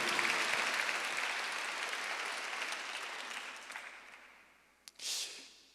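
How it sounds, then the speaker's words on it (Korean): Applause from a church congregation during a Sunday worship service, a dense wash of clapping that starts loud and steadily fades over several seconds, with a short final burst near the end. "박수를 하나 주세요."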